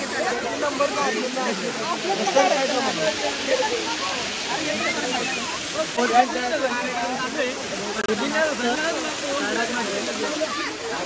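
A waterfall at Malanggad roars as a constant, broad rushing hiss, with voices talking faintly underneath the steady flow of water.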